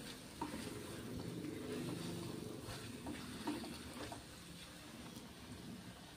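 A paneer masala mixture stirred in a pan, a quiet, continuous sizzle with soft scraping and occasional light taps from the spoon.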